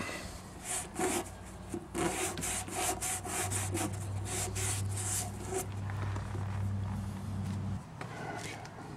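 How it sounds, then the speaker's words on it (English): Scotch-Brite pad scrubbing a metal part from a Maytag Neptune washer, a rapid series of close, rasping back-and-forth strokes with a low machine hum running underneath much of the time. "We'll use a little Scotch-Brite on that."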